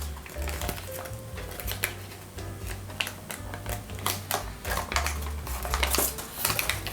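Origami paper is folded down and pressed flat while a model of dragon scales is collapsed, giving dry crinkles, taps and rustling creases in irregular bursts, close and fairly loud, with no talk.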